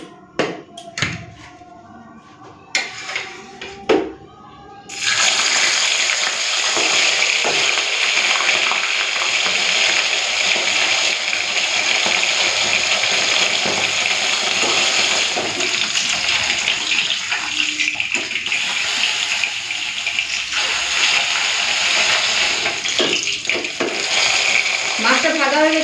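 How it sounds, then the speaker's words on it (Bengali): Chanda fish frying in hot oil, a loud steady sizzle that bursts in after a few seconds of quieter kitchen sounds and continues without a break. "তেলটা ভালো করে গরম করে নিয়েছি। চলুন এরপর মাছটা ভেজে নিই।"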